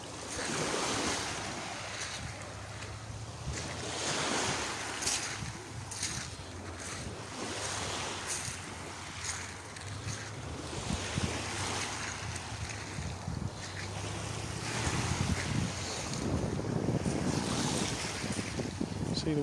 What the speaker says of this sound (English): See the way the waves come up.